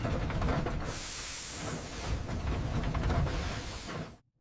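Steam machinery hisses loudly and continuously, a broad rushing burst of vented steam mixed with heavy mechanical rumble, ending abruptly.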